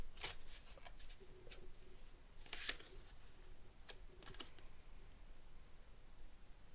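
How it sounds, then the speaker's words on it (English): Tarot cards being shuffled and drawn, a few crisp riffling bursts and light papery flicks and taps, close and quiet, with long hushed gaps between them. "I just want to get some extra cards out for you for this."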